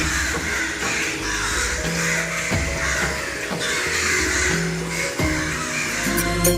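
Crows cawing repeatedly and loudly during the 6 a.m. ritual feeding that opens worship at the Shri Shanaishchara temple in Bajpe, Dakshina Kannada, the calls recurring in quick bursts over a steady tonal background.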